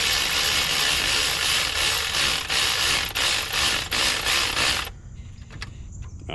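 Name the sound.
socket ratchet loosening a 10mm alternator bolt on a Honda Accord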